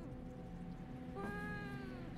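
A pet cat in the horror video game Fears to Fathom: Woodbury Getaway lets out one rising, drawn-out meow partway through, faint and set over a steady low room hum.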